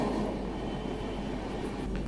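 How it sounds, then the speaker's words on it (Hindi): The Charminar Express rolls into a station platform with a steady, dense rumble of wheels and carriages. The broad noise holds even and fairly close, with no voices over it. "ये मेरे ख्याल से 4 मीनार एक्सप्रेस है जिसको भी प्लेटफॉर्म पे लगाया जाएगा।"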